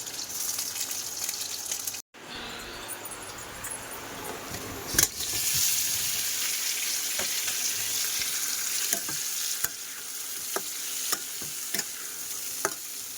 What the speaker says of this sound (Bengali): ওদিকে ফোড়নে তেজপাতা আর পাঁচফোড়ন দিয়েছি, পেঁয়াজ কুচি দিয়ে দেবো